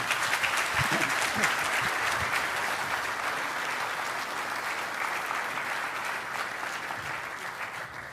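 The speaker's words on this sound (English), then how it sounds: "Please give General Kim a big round of applause." An audience at a military panel discussion gives General Kim a sustained round of applause, dense clapping throughout that eases off slightly toward the end.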